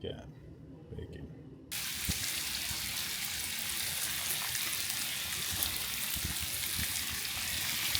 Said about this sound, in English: Cook up a little bit of this Crooked Gap bacon.